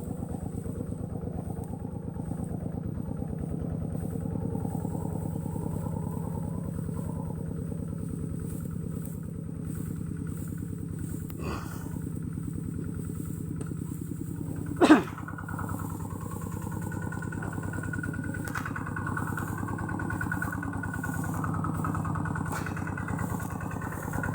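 A tractor engine runs steadily during a rice harvest, a mid-pitched idling chug with clattering that holds throughout, plus a couple of brief sharp knocks midway.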